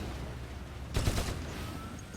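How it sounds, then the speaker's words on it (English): Bolter gunfire in the Warhammer 40,000 shooter Eternal Crusade: a short burst of loud, rapid shots lasting about half a second over a steady low rumble of background game noise. "And we'll start putting rounds into the enemy up there."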